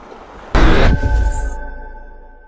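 Harley bagger motorcycle on an evening ride in New Jersey, a sudden loud rush of wind and engine noise bursting in and roaring close, then easing down into a fading steady drone with a faint whine.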